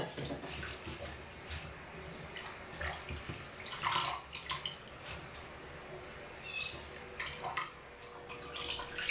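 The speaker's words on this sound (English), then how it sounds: "Wash the shiso, then drain the wastewater." Rinse water drained off freshly washed red shiso leaves at a kitchen sink, a continuous close splashing and trickling with a few louder gushes and drips throughout.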